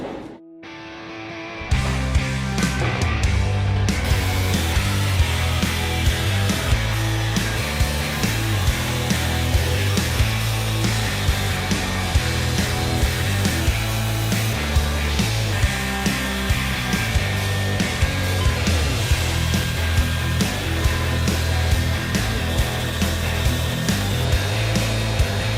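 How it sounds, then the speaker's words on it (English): A steel hook sword's dagger blade being ground, a loud, steady power-grinder whine running continuously for the whole stretch after a brief quiet start, with no talk. "as I was grinding on the dagger blade of this hook sword"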